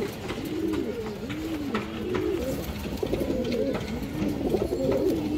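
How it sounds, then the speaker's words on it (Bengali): A silver female pigeon coos close by in a run of repeated, rolling calls, continuous over a noisy background. "একটা সিলভার মাদি কবুতর"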